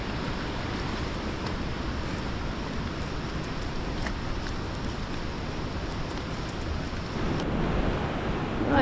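Steady, loud wind buffets the microphone on the walk to Steall Waterfall in Glen Nevis, Scotland, a continuous broadband roar with no voices, rising a little in the last second or two.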